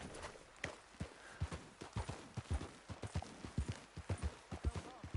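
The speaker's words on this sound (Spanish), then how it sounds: "cómo mola ir ahí en el caballo tranquilamente" Horse hooves clip-clopping at an easy walking pace while riding in the video game Red Dead Redemption 2, a steady, close series of hollow thuds over faint background noise.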